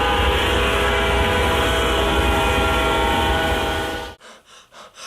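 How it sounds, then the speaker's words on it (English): A train inside a house in the video game Meet the Robinsons, a loud, sustained rumbling roll with a blaring horn-like tone that cuts off abruptly near the end, followed by a few soft thumps. "Who puts a train in their house?"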